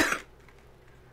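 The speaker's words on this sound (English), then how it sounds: "I don't know why I'm coughing" A single short cough, close and fairly loud, followed by quiet.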